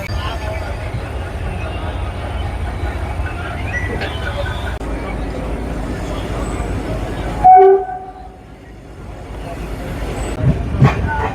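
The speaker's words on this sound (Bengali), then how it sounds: "এই যে ট্রেন এখন হাওড়া স্টেশন ছাড়ছে।" Dhauli Express train pulling out of Howrah station in India: a steady, loud rolling rumble and rattle of the carriages throughout, with a brief tonal horn-like blast partway through before the clatter resumes.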